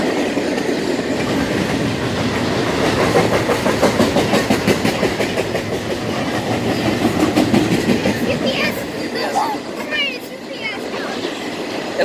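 BNSF intermodal freight train rolling past at a railroad park in Rochelle, loud and close, with a rapid clickety-clack of wheels over rail joints under a steady roar and brief squeals near the end.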